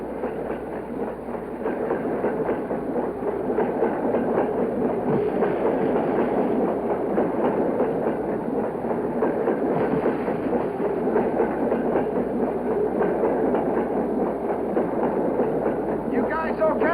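A moving train gives a loud, steady rumble with a rhythmic clickety-clack of wheels on rails running unbroken from start to finish.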